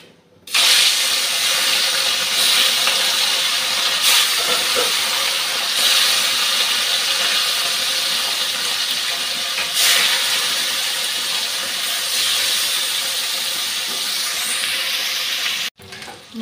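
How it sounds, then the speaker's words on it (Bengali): Rohu fish frying in hot oil gives a loud, steady, close hiss of sizzling that holds for about fifteen seconds, with a few faint ticks, before cutting off abruptly. "মাছটা ভেজে নিচ্ছি।"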